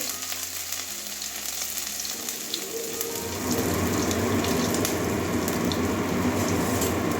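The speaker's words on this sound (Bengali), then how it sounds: "আদাটা কাঁচা গন্ধ যাওয়া পর্যন্ত ভেজে নেব" Chopped ginger sizzles in hot oil with whole cumin, bay leaves and dried red chilli for a chana dal with carrot and pointed gourd; a quiet crackle swells into a loud, dense, steady frying hiss partway through.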